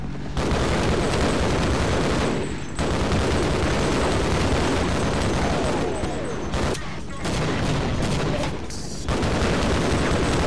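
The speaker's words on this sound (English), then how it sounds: "Whoa, explosion." Explosions and rapid gunfire fill a battle in the video game Half-Life, a dense, loud barrage of booms and shots that continues almost without pause, broken by a few brief gaps.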